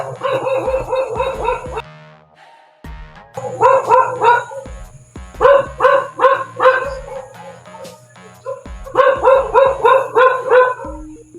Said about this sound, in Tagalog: marami talaga aso dito